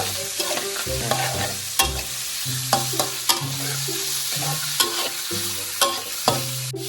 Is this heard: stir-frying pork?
yes